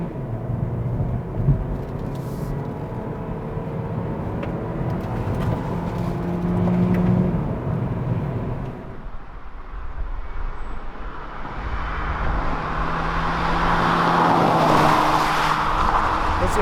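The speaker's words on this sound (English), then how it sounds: "Let's put the car into sports and drive." A Hyundai Ioniq hybrid drives in sport mode, engine and road noise building into a steady rumble, dipping briefly midway and then rising again with a brighter rushing tone, heard from inside the cabin with no voices.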